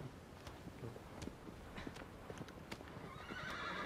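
The horse Aslo in Shadow of the Colossus, clip-clopping at a steady walking rhythm, with a whinny or neigh mixed in and game ambience underneath.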